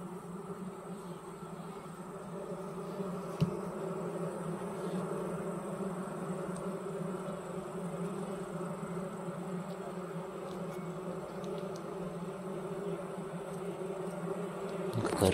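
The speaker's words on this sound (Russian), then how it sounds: "Какая рыженькая пчелка" Honeybees buzz steadily around an open hive during a summer honey harvest, a dense continuous drone close by that holds through the whole stretch with no talking.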